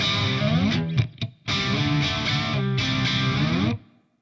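An electric guitar played through the gain channel of a Blackstar St. James 50W EL34 tube amp with no boost rings out in loud distorted chords, a few quick choppy stabs followed by sustained ringing notes that cut off cleanly.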